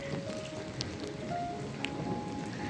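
Steady rain falls outdoors near a home's garage and street, a continuous dense patter with a few sharper drops standing out, fairly loud and without voices.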